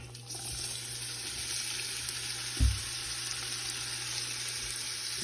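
Chopped shallots and a dozen roughly chopped garlic cloves browning in a pan for an Italian sauce give a steady, even sizzle throughout, with one brief dull knock partway through and no talking.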